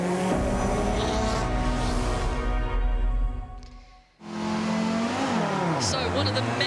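An Audi rally car on the Goodwood Festival of Speed rally stage, engine revving loudly and then dropping away to near silence before a second engine surge returns with rising and falling pitch, under commentary voices.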